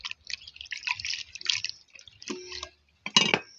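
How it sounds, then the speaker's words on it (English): Cooking ingredients washed by hand in water outdoors in a Kenyan village, light splashes and drips in quick irregular bursts, close and fairly soft. "So I'm washing my ingredients."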